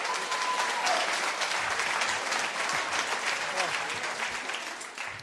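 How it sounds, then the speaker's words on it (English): Concert audience in a hall clapping steadily, a dense, even wash of applause that holds for several seconds and fades slightly at the end, with no talking over it. "Thank you. You can clap now."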